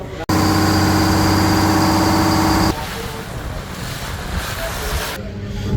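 A passenger launch rolling on the rough Tetulia river, a loud steady engine drone that cuts off partway, leaving a rushing mix of wind and churning water.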